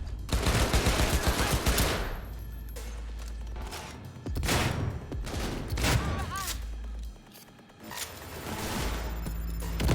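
Gunfire from the game Cyberpunk 2077 rattles in loud bursts and volleys, dropping away briefly between them, with combat noise filling the gaps.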